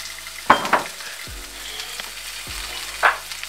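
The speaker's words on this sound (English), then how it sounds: "I'll add just a wee bit more olive oil to the pan." Olive oil sizzling in a pan while coconut curry shrimp cooks, a steady close fry with a few sharp crackling bursts and the odd clink of a utensil.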